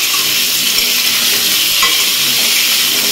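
Potatoes frying in oil for a jackfruit curry give a loud, dense, unbroken sizzle close up that stays even throughout.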